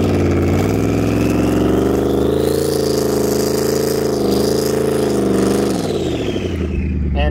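The Mudstang, a turbocharged Ford Mustang mud racer, revs hard as its turbos spool up. A loud, sustained engine roar holds steady with slight wavering, then drops in pitch near the end.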